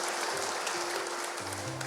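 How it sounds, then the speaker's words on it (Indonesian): A church congregation at a Sunday service claps in steady, dense applause, a continuous wash of many hands lasting the whole moment with faint organ-like tones underneath. "Tepuk tangan sekali lagi bagi Tuhan Yesus."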